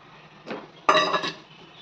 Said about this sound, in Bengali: তারপরে এই যে চিংড়ি, এটাও দিয়ে দেবো।